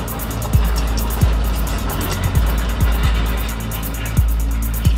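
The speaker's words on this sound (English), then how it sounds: "can you hear it scraping against the rocks as it tears up the earth?" Bulldozer with a two-shank ripper tearing up rocky ground, a heavy engine drone with repeated sharp scraping and clanking hits every half second or so, close and loud.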